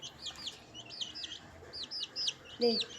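Baby chicks peep in quick, high-pitched chirps, several in a row, fairly close and soft against a quiet background.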